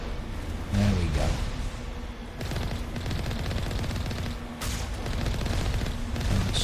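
Dense, sustained strafing gunfire and booms pound base defenses in the video game Mass Effect, a steady loud barrage with brief dips and renewed bursts.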